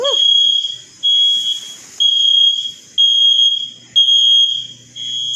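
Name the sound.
emergency alarm going off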